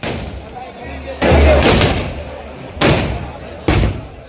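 Festival blasts and gunfire in Menar village: three sharp, loud bangs with echoing tails, spaced irregularly over crowd noise and faint voices.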